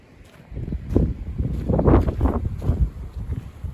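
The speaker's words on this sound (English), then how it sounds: "I don't know how long we're gonna last with this wind" Strong gusting wind on a beach buffets the microphone in a steady low roar that swells and dips, with no talking.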